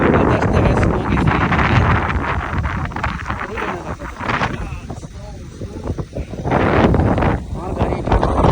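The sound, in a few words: cold wind blowing outdoors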